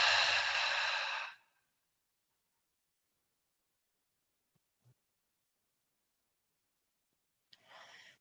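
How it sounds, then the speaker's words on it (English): One long, deep breath pushed out through the mouth during a yoga breathing exercise, close and breathy, followed by near silence with a faint rustle and the start of another breath at the end. "One more inhale. Exhale through the mouth, sink into the earth."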